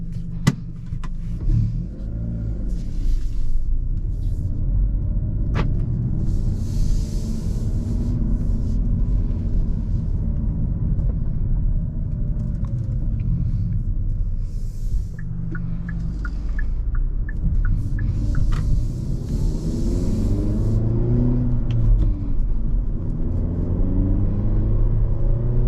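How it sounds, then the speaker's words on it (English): A 2023 Hyundai Elantra with a 6-speed manual gearbox driving along, its engine droning and revving up and down through gear changes over steady road rumble, heard from inside the cabin. "let's go ahead and take this Elantra on a drive and see how it does"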